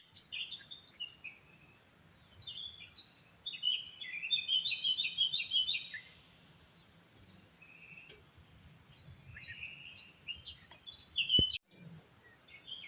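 Several birds singing and chirping at dawn in a quiet outdoor setting in Switzerland, melodic calls overlapping at a moderate distance, with brief pauses between phrases.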